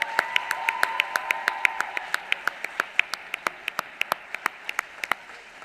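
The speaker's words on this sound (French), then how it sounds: "On peut vraiment les applaudir." Steady applause from a crowd at an awards ceremony, a run of crisp claps going on for several seconds with a faint voice near the start.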